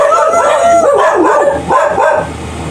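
Several dogs bark and howl loudly and close by in long, wavering, overlapping cries that fill the whole moment before easing slightly at the end.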